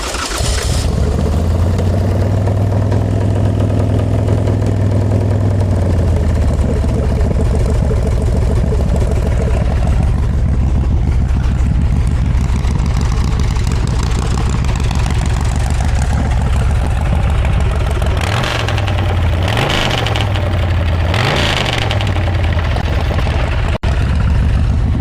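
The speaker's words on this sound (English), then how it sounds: "Let's see if this thing will start, Jordan." A 2004 Bourget Fat Daddy motorcycle fires up with the choke pulled, then settles into a loud, steady, close-up idle with a deep rumble, a few blips of throttle near the end.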